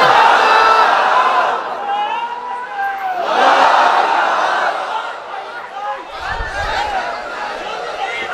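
A large crowd at an Islamic sermon roars back in unison, several loud collective shouts of takbir rising and falling over about eight seconds, with mixed voices and cheering-like whoops.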